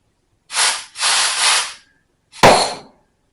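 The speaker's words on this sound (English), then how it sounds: "That was the piston coming out. Hitting the back of the bracket here." Compressed air blows into a Lotus Esprit Bendix brake caliper, with several close hissing bursts followed by a sharp pop as the piston shoots out and strikes the bracket, trailed by a short hiss.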